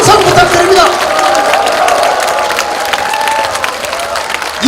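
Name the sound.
audience applause and cheering at political event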